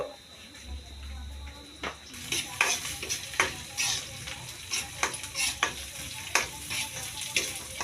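Rooster meat fries in oil over a steady sizzle, with repeated loud scraping stirs of a utensil against the pot at an uneven rhythm.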